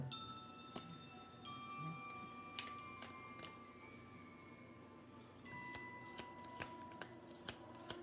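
Tarot cards are shuffled by hand, quiet riffling and flicking swishes repeating across the span, close and faint over a soft steady background hum.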